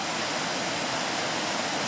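Rushing water from a mountain river fills the air with a loud, even roar, close and unbroken, with no voices.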